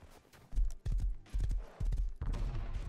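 Horse hooves clip-clop in the game Rust, a close, uneven run of heavy thudding steps in quick bursts across a few seconds.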